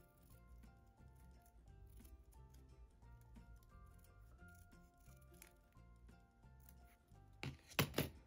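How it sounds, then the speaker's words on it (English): Scissors cutting paper in half: a brief, crisp snip lands at the very end, over steady background music. "So let's cut this one in half."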